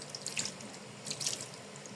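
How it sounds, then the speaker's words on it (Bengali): A little water from a running tap is added to raw beef being mixed by hand with oil, a steady close faucet hiss with brief louder splashes. "এখানে আমি তারপর সামান্য পানি দিয়ে দিলাম"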